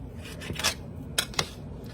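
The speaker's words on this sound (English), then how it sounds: "I'm going to take my zucchini and cut it in half" A kitchen knife slices a zucchini in half on a cutting board, giving a few quiet, crisp cuts and scrapes spaced over a couple of seconds in a calm room.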